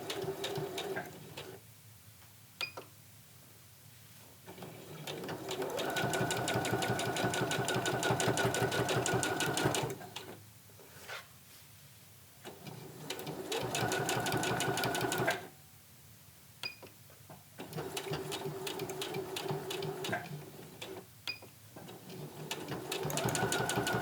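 A sewing machine straight-stitches the boxed corners of a tote bag with the needle centered, running close in several long bursts separated by short pauses and small clicks, with no voices.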